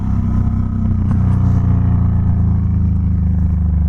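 A Honda VTX1800 motorcycle's large V-twin engine while riding, a loud, steady, deep rumbling drone held at an even pitch, close up with no talking.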